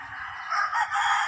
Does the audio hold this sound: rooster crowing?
yes